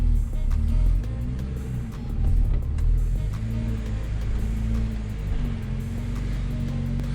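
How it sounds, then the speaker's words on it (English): E90 BMW manual with a single mass flywheel rolling slowly into a garage, a low steady engine drone with faint rattling chatter running throughout, fairly close and continuous. "as I pull into my garage, you'll hear a bit of that chatter from the single mass"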